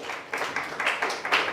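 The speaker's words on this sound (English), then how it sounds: "Let's give Jesus a big round of applause" A church congregation gives a brief burst of applause for Jesus, the clapping coming in quick uneven pulses for about a second and a half.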